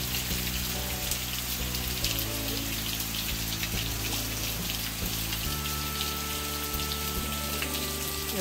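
Water dripping and splashing onto natural ground at a scenic rock garden spot with pine trees, a steady close patter of drops with a continuous low wash running under it throughout.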